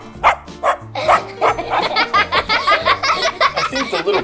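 A little cartoon pup barks and yips in a rapid, bouncy series of short barks over a light musical backing in a PJ Masks toy marble run setting.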